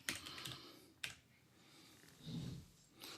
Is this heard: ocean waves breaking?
no